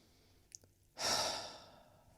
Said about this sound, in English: Take a few deep breaths in